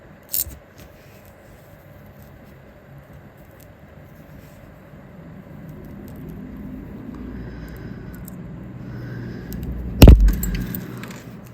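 A jewelry chain link being cut: a single sharp, loud snip near the end, after quiet handling and faint metallic jingling.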